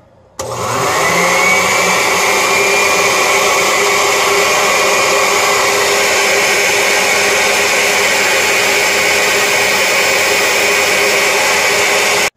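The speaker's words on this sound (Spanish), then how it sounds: "Ahora vamos a licuar." A blender whirs yogurt and apple juice together, starting abruptly and holding a loud, steady motor drone close by for the full stretch without any talk.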